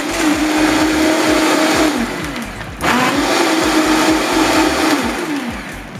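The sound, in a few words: blender blending coconut water with soaked nuts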